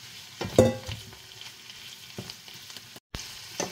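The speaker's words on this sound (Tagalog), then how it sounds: "Dali, ipiprito din natin siya ng konti." Beef pieces hit hot oil in a pan and burst into loud crackling sizzle that settles into a steady fry with scattered pops, close and without talk.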